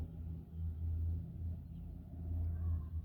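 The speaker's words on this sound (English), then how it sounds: "A neighbor's car driving around." A car's low engine rumble rolls past at a distance, a faint steady drone that swells and fades without any voices.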